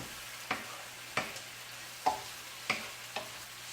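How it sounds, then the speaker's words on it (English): Shrimp coated with paprika sizzle faintly in a pan while a utensil scrapes and taps through it in about five separate, evenly spaced strokes against a quiet background. "stir that around a little bit."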